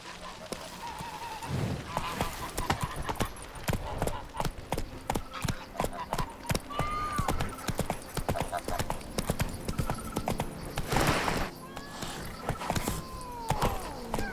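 Horse hooves galloping in The Witcher 3: Wild Hunt, a steady rapid clip-clop close by, with occasional whinnies and game ambience, and a voice speaking over it.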